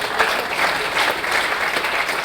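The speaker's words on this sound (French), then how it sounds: "on peut les applaudir." Audience applause at a professional congress round table follows the speakers, a dense, steady clapping from a seated crowd that holds at an even level throughout.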